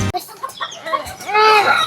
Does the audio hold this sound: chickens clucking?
yes